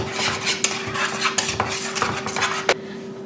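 Butter cream stirred in a bowl for a strawberry fraisier, brisk repeated scraping and clinks of a utensil against the bowl, close and busy, then fading at the end.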